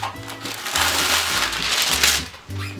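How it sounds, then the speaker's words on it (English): Wax paper crinkling and crackling loudly up close as it is pulled and handled in a kitchen, a rough rustle that runs on over low musical tones in the background. "Then I'm going to take some wax paper."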